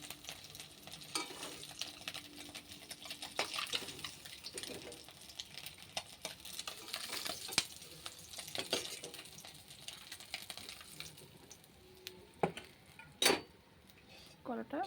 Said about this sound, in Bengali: ডিম ভাজা হয়ে গিয়েছে, এবার ডিম নামিয়ে নিচ্ছি।